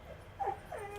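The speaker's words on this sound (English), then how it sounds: "If you hear a whining, that is my dog Spaz." A pet dog named Spaz gives a short, faint, high whine, a quick whimper or two in an otherwise quiet room.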